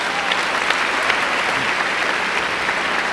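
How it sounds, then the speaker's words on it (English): Sustained applause from a big audience at a college commencement, loud and even, with many hands clapping continuously. "Now you may applaud the dignitaries."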